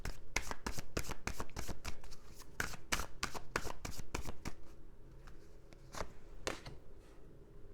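Tarot cards are shuffled for a reading, with a close, crisp run of about a dozen rapid riffles and slaps. They thin out into a few sparser snaps toward the end, with no voice.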